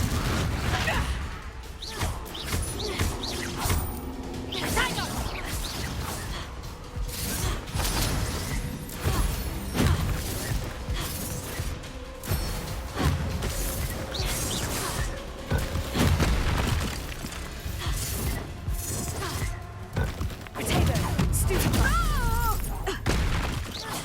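Repeated blasting-spell explosions from Confringo in Hogwarts Legacy, booming impacts and crashes scattered through a chaotic duel with whooshing casts, loud and continuous, with shouted voices mixed in.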